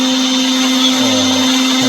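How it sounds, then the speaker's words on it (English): A blender whirs steadily and loudly, close by, as it blends a smoothie of orange, oats, pineapple and nuts, a constant motor drone that stays unbroken throughout. "it's easy for the blender to blend everything together"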